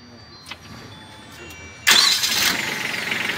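A Kubota MU4501 mini 4x4 tractor engine cranks briefly and then catches, settling into a loud, steady rumbling idle close by, with faint background chatter before it starts.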